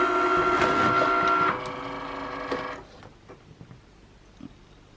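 Cricut Maker cutting machine running a test cut on card, a steady motorized whir with stepping tones for about three seconds before stopping, followed by faint handling clicks.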